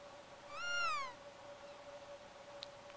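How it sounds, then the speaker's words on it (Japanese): A cat in the video game Chrono Trigger gives a single short, clear meow that rises then falls, set against a faint steady background tone with no speech. "お、にゃんこが、"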